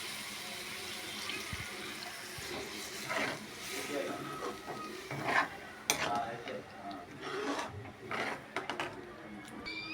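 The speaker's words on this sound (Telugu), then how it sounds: "రెండు గ్లాసులు నీళ్ళు పోసుకున్నాము" Water is poured into a pot of Telangana-style dal as it cooks, splashing and gurgling unevenly at close range, with a voice faintly in the background.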